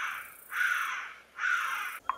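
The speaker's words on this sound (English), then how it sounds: "Number 28 was a thick-tailed bush baby." Thick-tailed bush baby calling in Southern Africa, two loud drawn-out wailing cries each lasting about half a second, followed by a short faint trailing note, with no other sound around them.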